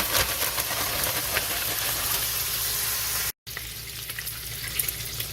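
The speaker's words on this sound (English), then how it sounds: "Now that the bacon has started to render" Bacon renders in a pan, giving a steady, dense, close sizzle and crackle of frying fat that runs throughout with only a brief break.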